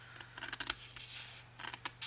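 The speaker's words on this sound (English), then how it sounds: "I want to cut inside these score lines" Scissors snip through file folder card along the inside of score lines, a quiet series of short crisp cuts in two clusters with a pause between, close up.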